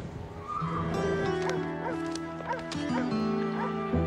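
A horse neighs in the animated series Grand Galop, with wavering whinny calls repeating over steady sustained tones for about four seconds.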